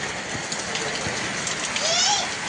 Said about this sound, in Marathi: मस्त पाऊस चालू झालेला आहे